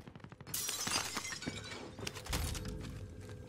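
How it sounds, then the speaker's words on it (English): Glass window breaking in the Warzone video game: a sharp shattering crash followed by a second burst of tinkling, crunching fragments, fairly close and alone without talk. "they broke the side glass"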